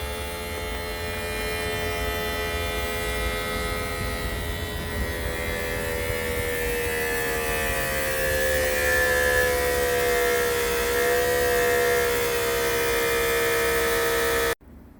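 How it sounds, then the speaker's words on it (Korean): Hydraulic tilting of a high ladder fire truck: a steady, loud mechanical hum with layered whining tones that slowly shift pitch, running continuously before cutting off abruptly at the end. "작동 스위치를 작동시켜 틸팅을 시작합니다"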